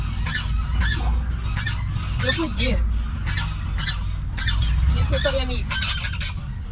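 Geese honk repeatedly in loud bursts close by, while a person speaks briefly over the noisy calls.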